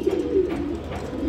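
Pigeons cooing close by, including a light-coloured female kept for sale at home, with a continuous low throaty cooing that swells and rolls steadily.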